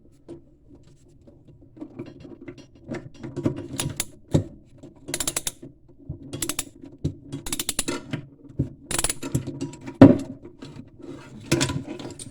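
A 12 mm socket ratchets on a faucet mounting nut under a bathroom countertop, giving quiet, irregular clicking and metallic clatter in short bursts, with a few sharper knocks, close by with no talking.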